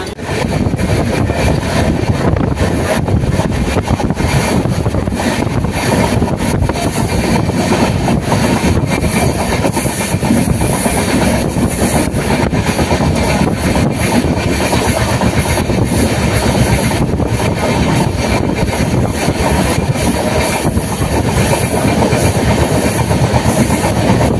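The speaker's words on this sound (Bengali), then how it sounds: "সেই জন্য এখানে 1 মিনিট স্টপেজ দিয়ে ছেড়ে যাবে ট্রেন" A train rolls steadily along the rails near Balasore, Odisha, for the whole stretch, with a loud, continuous rumble and a faint clickety-clack. Nobody speaks.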